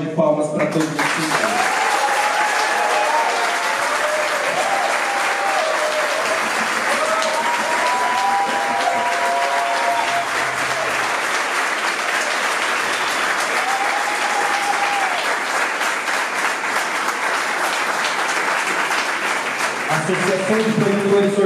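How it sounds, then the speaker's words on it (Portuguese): Sustained crowd applause for festival staff fills the space at an opening event, steady and dense throughout with a few voices calling out faintly beneath it. "Queria pedir uma salva de palmas para todos vocês."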